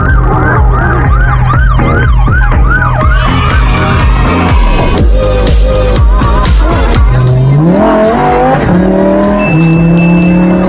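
An ambulance siren wails in a rising and falling pattern as it passes through traffic at a roundabout, loud and close over steady car engine rumble, shifting to a different tone partway through.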